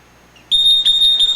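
A SAMES KREMLIN Cyclomix paint mixing system sounds its alarm in an industrial spray booth setting, a loud, piercing electronic tone that starts suddenly and pulses steadily after a brief quiet moment.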